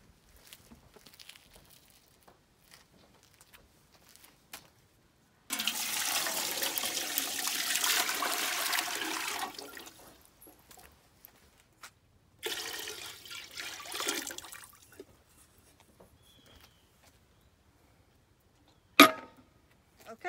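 Water gushes from a tap into a pressure canner during home canning of dried beans, a loud steady rush for several seconds, then a second shorter burst and a brief sharp clank near the end.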